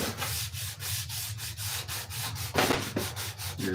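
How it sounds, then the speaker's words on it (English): Steady back-and-forth rasping of sandpaper rubbed over wood, a regular rhythm of strokes close up with a harder, louder pass near the end and no voices. "And when it gets low on tooth, you can keep rubbing, but you're just rubbing."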